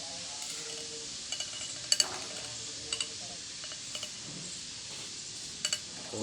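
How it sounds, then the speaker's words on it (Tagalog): Food stirred in a pan at a Filipino family meal, with soft scraping and a few sharp metallic clinks of a utensil against the pan, fairly quiet over a low background murmur. "Haluin lang natin"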